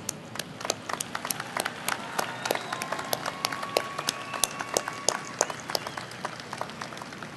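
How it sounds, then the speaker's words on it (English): Audience at a tribute event gives a round of applause for children, steady scattered hand clapping from a modest crowd, moderately close and continuing without talk. "Please join me in a round of applause for these kids."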